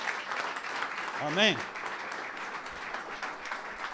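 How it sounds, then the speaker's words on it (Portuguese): Church congregation applauding during a sermon, a brief burst of clapping under a preacher's voice, with a loud sung or shouted exclamation rising over it. "Dê um aplauso a Jesus"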